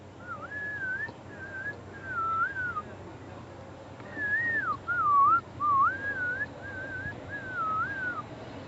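A person whistles a call in a string of short, rising and falling warbled phrases, clear and fairly close, with brief pauses between them over faint background noise.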